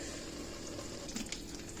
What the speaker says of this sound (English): So that bubbling that y'all see, that's exactly what I'm looking for.